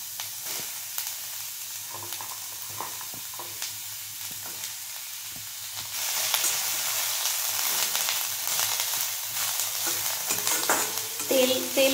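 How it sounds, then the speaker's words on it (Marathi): Onion being stirred and sautéed without oil in a kadai still hot from roasting coconut, a steady close sizzle and frying hiss with scraping stirs that grows louder partway through. "नुसता कांदा असा आहे ना परतून घ्या।"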